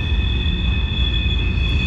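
A train squeals on its wheels as it rolls through downtown Winnipeg, a steady high metallic screech held over a continuous low rumble throughout, loud and close, with no talking.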